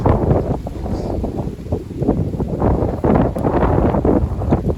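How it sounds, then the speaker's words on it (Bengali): Strong wind blowing outdoors on a cloudy day among trees, buffeting the microphone with loud, gusty low rumbles that rise and fall throughout. "অনেক হাওয়া"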